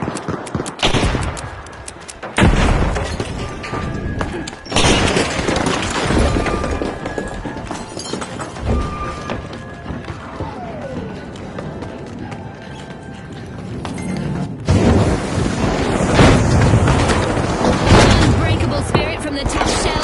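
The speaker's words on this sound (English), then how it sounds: "Breach charge planted." Breach charge detonation in the shooter game The Finals, sharp broadband blasts cutting through a dense mix of rapid gunfire and battle noise, with loud bursts recurring across the stretch.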